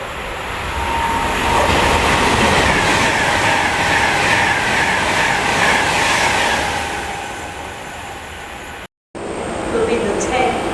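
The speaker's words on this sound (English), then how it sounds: "Now passing through is the Virgin Trains service." Virgin Trains service running through Bletchley station without stopping, a loud sustained rumble and rush of wheels on rail with a steady roar that swells, holds and eases, then a short break before trackside ambience resumes.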